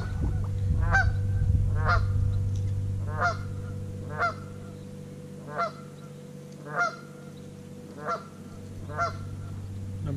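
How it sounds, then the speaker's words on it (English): A goose honks repeatedly, about eight loud, nasal calls spaced roughly a second apart over a steady low engine-like hum. "This goose is annoying."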